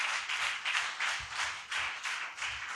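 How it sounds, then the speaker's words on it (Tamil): A congregation at a Sunday church service claps hands in a steady, rhythmic beat, roughly two to three claps per second, heard from a moderate distance without talk. "கை தட்டும் போது பலமா கை தட்டணும்."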